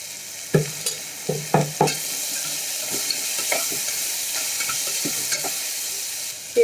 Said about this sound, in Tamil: கொஞ்சமாக உப்பு சேர்த்து நம்ம நல்லா வெங்காயம் வதக்கிக்கலாம்